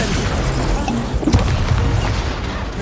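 An Incendio fire spell bursts during a Hogwarts Legacy duel: a sudden booming blast near the middle, set in loud, dense, continuous combat noise.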